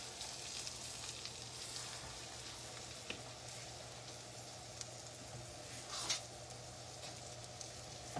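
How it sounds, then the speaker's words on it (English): Cube steak sears steadily in a hot pan, a quiet continuous sizzle with a faint hum beneath and a few soft pops and clinks, no voices. "She is now just searing the cube steak."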